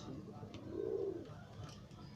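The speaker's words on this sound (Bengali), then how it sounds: "আপনারা দেখছেন কাগজি পায়রা, মাথায় তিলক, আর বোমার দিয়ে পায়রাগুলো নামছে" Kagzi pigeons with tilak-marked heads coo in a soft low murmur as they land, the cooing swelling in the middle and fading, with faint background noise throughout.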